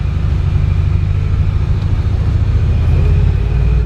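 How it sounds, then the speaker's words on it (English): Deep, loud rumble of a big-turbo V8 vehicle of about 420 horsepower on a mountain road, a steady close-up low drone with no talk. "So this is a V8 big turbo, just over 420 horsepower."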